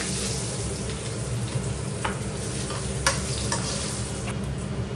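Bay leaves and dried chilies sizzling in hot frying oil for a Bengali country chicken curry: a continuous close crackling hiss with a few sharp pops and stirring clicks, no talk.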